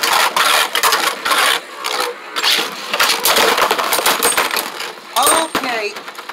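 Beyblade spinning tops, Rage Longinus against Legend Spriggan, clattering and grinding in a stadium, with rapid metallic rattling and sharp clicking hits in bursts and an excited voice calling out over the battle.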